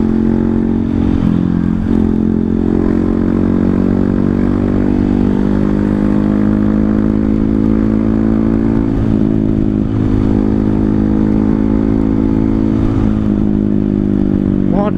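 Honda CRF 150L motorcycle fitted with a Tridente F19 exhaust in racing mode: a loud, close, steady idling engine drone with a deep throbbing exhaust note, held without pause and with small revving swells.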